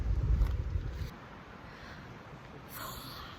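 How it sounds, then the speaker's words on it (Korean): Gusty wind on a hillside forest near Gaesimsa temple in Seosan, South Korea, roars across the microphone in a deep, rushing rumble that eases after a second into a steady, wave-like whoosh, with no voices. "와 되게 바람 소리가 파도 소리 같다"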